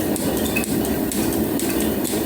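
Metal planer machining a flat surface on a workpiece, a steady loud grinding drone with faint clinks and ticks throughout.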